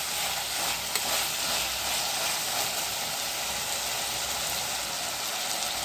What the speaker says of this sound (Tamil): நல்லா அந்த எண்ணெயிலேயே இந்த மசாலாவை வதக்கிடலாம்